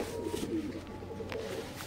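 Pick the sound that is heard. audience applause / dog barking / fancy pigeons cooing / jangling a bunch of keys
fancy pigeons cooing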